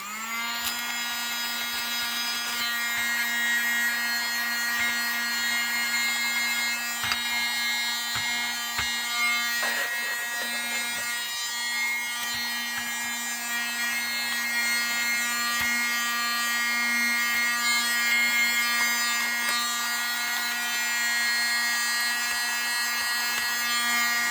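A small USB-powered mini desk vacuum runs steadily throughout, a thin whining motor hum with a constant pitch and faint rattles of small objects being sucked up, close by and with no talking.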